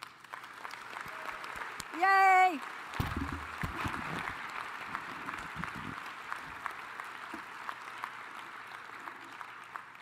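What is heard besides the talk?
audience applause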